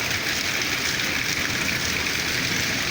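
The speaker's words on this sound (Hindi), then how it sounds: "इतनी तेज़ बारिश हो रही है" Heavy rain pours down in a loud, dense, unbroken roar, steady throughout with no voices.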